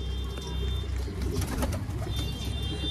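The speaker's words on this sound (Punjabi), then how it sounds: "ਆ ਦੇਖੋ ਬਈ ਮਕੂਆ ਕਬੂਤਰ ਆ" Makua pigeons kept for sale, including a black-and-white pair, coo repeatedly in soft throaty bursts close by, over a low background hum with no talking.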